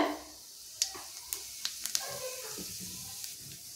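Whole cumin seeds sizzle gently in hot white oil in a wok, a soft steady hiss dotted with several sharp little pops and crackles.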